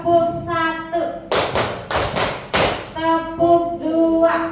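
A group of teachers at a Guru Penggerak training session play a rhythmic clapping game, a handful of loud, crisp unison claps in quick succession, framed by a voice talking before and after.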